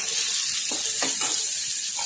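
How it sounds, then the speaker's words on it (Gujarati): Long-sliced onion sizzles in a pan of hot oil with asafoetida, ginger-garlic paste and sliced green chillies, a steady close hiss with a few soft stirring scrapes. "હવે એમાં એક ડુંગળી આપણે લાંબી સમારેલી એડ કરીશું"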